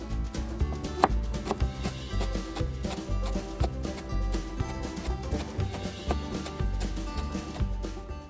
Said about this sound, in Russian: И мелко-мелко нарезаем зелень.